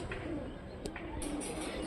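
Young Punjabi pigeons coo softly and steadily at close range, with a low murmur of pigeon calls filling the space and a couple of faint higher chirps mixed in.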